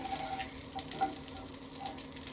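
Butter melting in a pan for veg fried rice, giving a soft, faint, steady sizzle with light bubbling crackles, close by and alone without any voices.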